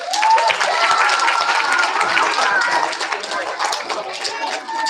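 An audience at a kindergarten and first-grade school awards assembly applauds students, a loud, sustained round of clapping with some overlapping voices.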